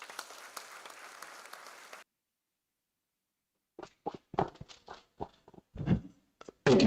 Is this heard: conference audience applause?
yes